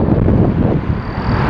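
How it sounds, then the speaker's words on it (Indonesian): Strong wind on a road after flooding in Makkah, buffeting the microphone as a loud, steady rumbling roar with gusty swells, close and continuous, with no voices. "angin gede nih"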